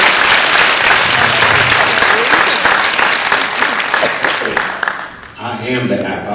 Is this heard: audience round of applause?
yes